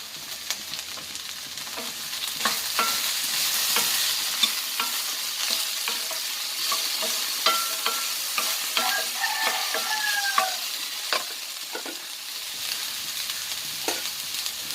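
Okra sautéing uncovered in a pan, a bright steady sizzle with frequent stirring scrapes and clicks, close and moderately loud throughout.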